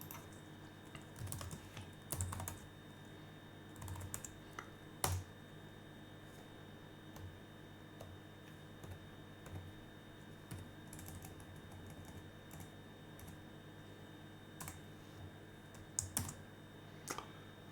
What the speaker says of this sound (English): So this is what we are going to type and save and exit.